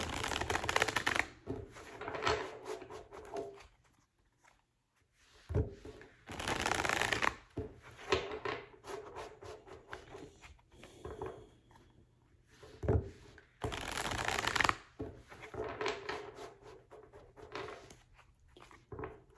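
Tarot cards are shuffled by hand in repeated papery bursts of riffling and sliding, close and fairly quiet, with short pauses between bouts and no talking.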